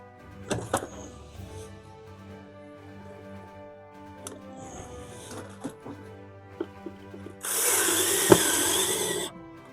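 A power drill drives screws into a toilet fitted in a converted bus camper, with scattered clicks and knocks first, then a loud close burst of whirring near the end.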